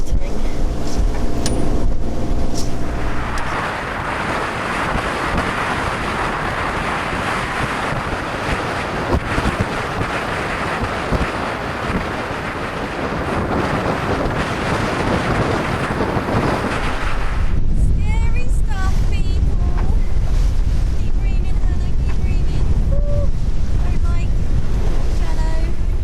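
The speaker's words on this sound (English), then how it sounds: "we've dropped the sails and we're motoring" A sailboat motoring under engine with its sails dropped, in strong wind on the approach to the River Deben in Suffolk; loud, constant wind buffeting and rushing water cover a steady low rumble, and the roar eases in the final stretch.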